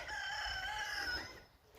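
A single rooster crow in a rural village, fairly faint and at a distance, holding its drawn-out note before fading away.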